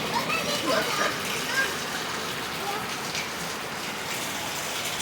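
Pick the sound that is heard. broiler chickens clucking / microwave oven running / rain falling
rain falling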